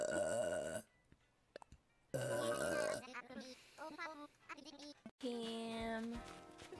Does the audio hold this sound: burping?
yes